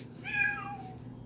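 One brief indoor meow from a house cat rises and falls in the background, moderately loud against a low constant electrical hum.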